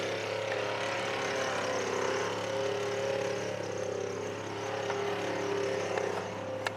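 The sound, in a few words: Toyota FRS with twin supercharger driving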